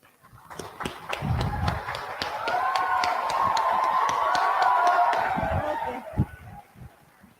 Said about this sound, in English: give a big clap for us